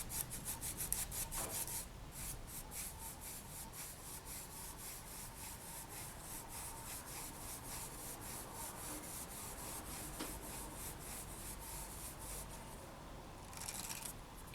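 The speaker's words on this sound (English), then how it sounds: "And then I'm going to burnish that on." A polymer clay earring design is burnished by rubbing on a tile, giving a faint, soft, continuous scratchy friction sound with small irregular strokes and no talk.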